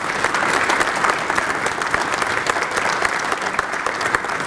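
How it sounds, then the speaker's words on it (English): An audience breaks into dense, sustained applause, with steady overlapping clapping that stays at an even, fairly loud level throughout. "So if people could give them a round of applause."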